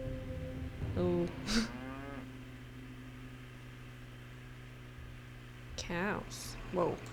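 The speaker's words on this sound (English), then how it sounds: "Cows." Cows mooing in a farm scene in the Nancy Drew game Trail of the Twister, with a few drawn-out moos rising and falling over a steady low engine drone, one early and a pair near the end.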